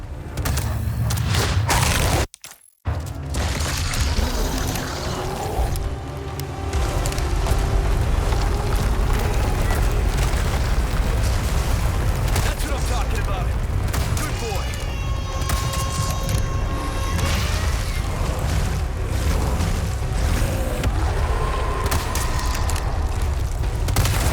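Heavy gunshots in Resident Evil 4 fired at the giant, rendered as booming, explosive game combat that rolls on continuously and loudly after a brief dropout, with layered impacts and rumbling effects.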